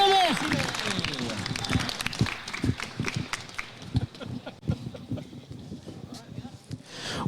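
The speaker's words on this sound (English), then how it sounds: "We'll give it up one more round of applause for the Clark" Scattered applause from a small audience at a collegiate Valorant esports championship, honoring the Clark University team: sparse, uneven claps of varying loudness that gradually taper off.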